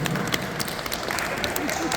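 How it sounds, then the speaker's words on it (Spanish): Applause at a science festival group show, dense, close clapping from many people with scattered voices and cheers mixed in, loud and continuous throughout. "un aplauso para todos que se animan"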